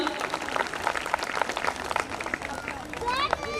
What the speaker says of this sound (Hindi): श्री योगेश सोनवानी सर, जोरदार तालियां।